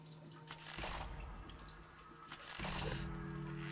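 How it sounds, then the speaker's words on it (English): In a video game, water flows through a cave where the floor is being dug away. A steady liquid trickle and drip carries along, with two louder surges of splashing water, one early and one near the end. "Progress is slow, but aided by the continued flow of water."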